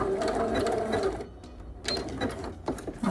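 A sewing machine back stitches a seam on a simple summer dress, a close, steady rapid chatter that pauses briefly, then resumes in shorter runs.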